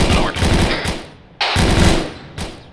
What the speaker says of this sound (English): Shield MG is engaging